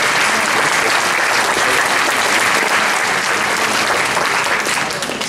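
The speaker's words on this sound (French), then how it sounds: "Voilà, on va l'applaudir." Loud, sustained applause from an audience at a municipal New Year's greetings ceremony in Ceyzériat, a steady clatter of many hands lasting throughout and easing slightly at the end.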